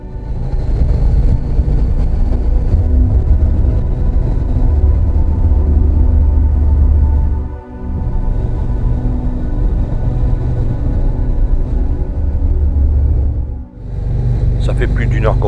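A motorcycle rides along a small, narrow road in Portugal on a road trip, its engine a loud, steady low rumble mixed with wind noise, dipping briefly twice.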